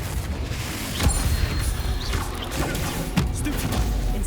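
Confringo explosive spell blasts from Hogwarts Legacy combat, a few sharp whooshing bursts and thuds scattered over a busy, moderately loud game mix.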